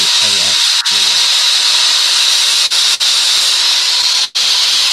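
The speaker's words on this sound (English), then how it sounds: "I'll be sanding this one to the bottom of this." Sandpaper at 240 grit rubbing steadily against a spinning wood-turned waterdrop bowl on a lathe, a continuous loud broadband hiss that drops out briefly a few times, with some low murmur of talk early on.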